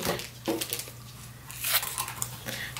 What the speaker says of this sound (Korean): 가위만 잘 되면 이렇게 잘라집니다.